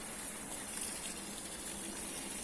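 Ice-cold spring water flows steadily from a town fountain spout, a loud continuous gush and splash that fills the whole moment without pause, close by and with no voices.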